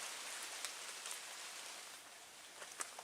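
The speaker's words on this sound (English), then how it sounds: "Still raining a little bit." Light, steady rain patters softly on surfaces on a mountain trail in the Cumberland Gap, with occasional louder drops standing out against the continuous hiss.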